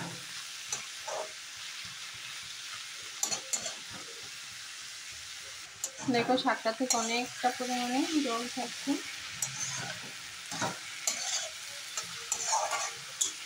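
Spinach greens and potato frying in a pan, a soft sizzle punctuated by scraping stirs of the spatula, while a person talks over the middle stretch.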